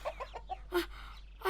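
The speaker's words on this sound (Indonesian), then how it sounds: "Ayam ini ayam raksasa." Short clucks and squawks from a chicken, a few quick bursts in a row, fairly close and clear against a quiet background.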